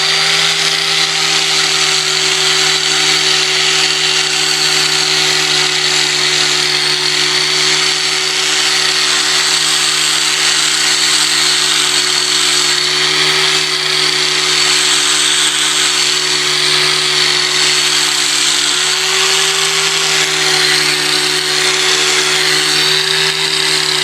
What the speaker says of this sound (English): Got the 50 grit wheel set up on the grinder